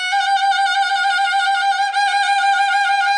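A single sustained bowed violin trill with a fast, even shimmer of rapid alternation, steady and loud, played alone.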